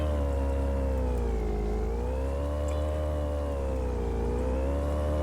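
A motorboat engine in the fishing game Fishing Planet, a steady droning whine whose pitch swells and dips slowly as the boat speeds through a turn, fairly faint and continuous with no talk.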